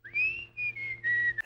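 A person whistles again on a comedy show: a sweeping upward note followed by a few sustained, slightly falling tones, close and distinct with no talking.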